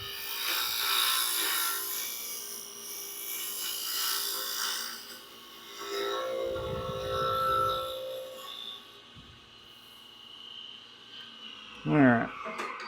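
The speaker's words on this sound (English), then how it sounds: "Now we're just going to throw a skew on this real quick. The skew is just a straight blade." A skew chisel, a straight flat blade, smooths a wooden Easter egg spinning on a lathe, making a soft continuous scraping and rubbing that swells and fades, with a sharper scrape near the end.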